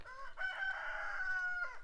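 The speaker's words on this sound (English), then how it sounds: "My chickens come on command." A backyard rooster lets out a single clear crow lasting under two seconds, faint and somewhat distant, with no other sounds around it.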